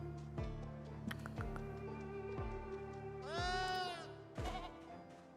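Several loud sheep bleats sound in a Project Zomboid game, widely spaced across the stretch, one long wavering cry in the middle. Hums and faint clicks fill the background and nobody talks.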